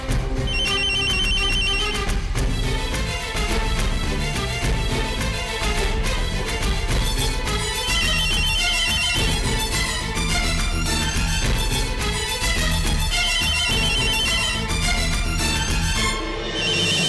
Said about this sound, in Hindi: मिस्टर पुंदिर, आपका फोन।